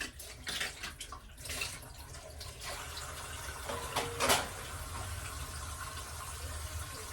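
A kitchen tap runs while dishes are washed by hand, making a continuous gushing splash with small clatters and surges throughout.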